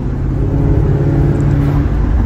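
A Maserati GranCabrio MC engine roars loud and close in a steady, unbroken drone with a slight swell, and no voices are heard.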